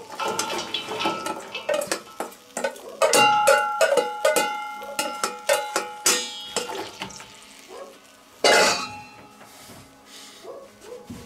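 Vegetables are tipped into a bean stew in a metal cauldron, with repeated clanks and scrapes of metal utensils against the pot, uneven and close, plus one louder clattering burst near the end.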